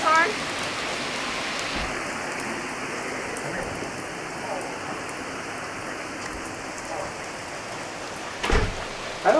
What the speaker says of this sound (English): it was like a torrential downpour. I mean, it was like the hardest rain we'd seen all year.